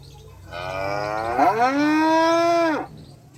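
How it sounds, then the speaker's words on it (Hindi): A single long cow moo from a digital Bhagavad Gita device, a recorded sound that plays when touched; it swells in and holds steady for about two seconds before dropping off, clear and alone. "इसको टच कर सकते हैं तो गैया की आवाज़ आएगी"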